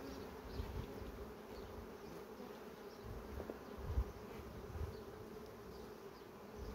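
Honeybees buzzing at an open hive frame during a vertical brood-nest inspection: a steady, close, dense drone of many bees with occasional louder passes near the listener, no talk.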